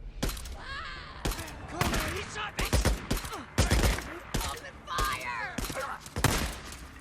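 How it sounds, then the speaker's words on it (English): Gunfire in the video game Days Gone, a rapid string of loud, close shots in bursts with brief gaps, over a rumbling game background. "those first two shots, well, first like 20 shots were a disaster"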